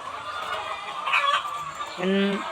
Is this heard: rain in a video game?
no